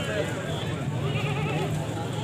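Goats at a rainy livestock market, with bleats mixed into a constant crowd murmur and nearby talk.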